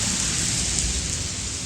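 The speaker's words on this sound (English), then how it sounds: "but it's raining." Steady rain falls in hot weather, an even, dense broadband patter and hiss close by, with no voices over it.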